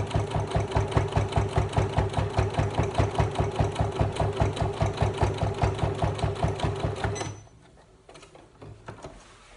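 A sewing machine stitches through a fabric notebook cover in a fast, even run of mechanical clatter, loud and close, then stops abruptly, leaving quiet fabric handling.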